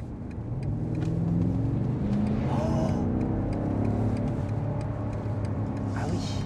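A 625-horsepower BMW sedan pulling hard, its engine a steady, rising drone heard from inside the cabin, loud and continuous for the whole stretch.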